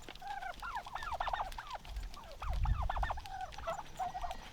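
Heritage and bronze-breasted turkeys gather at a feeder, giving repeated short gobbling and yelping calls in quick bursts, moderately close, over low rumbling background noise.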